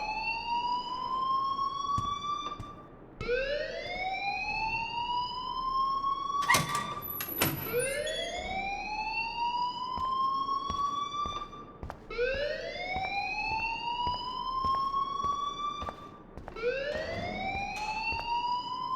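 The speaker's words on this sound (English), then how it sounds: "please turn off that alarm" A fire alarm blares in the Life is Strange video game, a loud repeating rising whoop that cycles every couple of seconds and plays alone with no talk.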